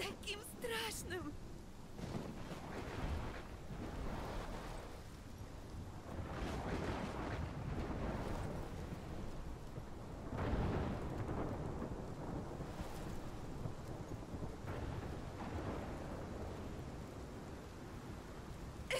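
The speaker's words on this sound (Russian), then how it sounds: "Это моя буря." A thunderstorm in the Life is Strange video game, with heavy wind and rain and rolling thunder swelling in repeated deep, rumbling surges over a continuous roar.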